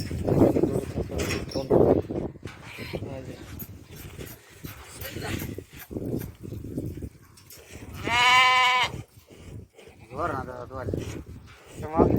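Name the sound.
milk goats bleating on a Saudi Arabian goat farm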